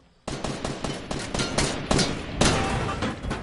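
Rapid bursts of video game gunfire ring out loud and close, crackling through the whole stretch with repeated sharp shots.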